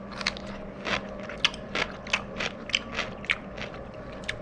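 Close, crisp crunching bites and chews into a tuna melt sandwich in a quick irregular rhythm, each crackle sharp and distinct.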